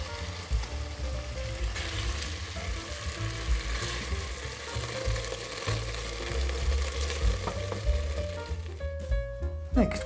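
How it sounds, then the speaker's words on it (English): Irish stew with pepper stirred in a pot, giving a continuous low bubbling sizzle with soft scraping movements, close and moderately quiet, while a voice talks over it. "Give it a good stir"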